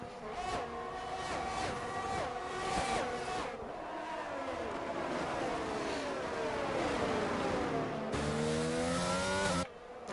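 Several race cars, a Ferrari leading, scream past with rising and falling engine pitches and gear changes at a Japan circuit in a racing video game, loud and close, ending with an abrupt cut.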